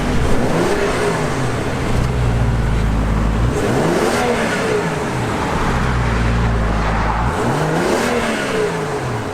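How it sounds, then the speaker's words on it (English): A 3-liter turbocharged inline-six engine in a 2017 BMW 535i Gran Turismo revs up and settles repeatedly, three rising-and-falling sweeps of a smooth, powerful motor close by, with no talking. "the 3-liter turbocharged inline-six"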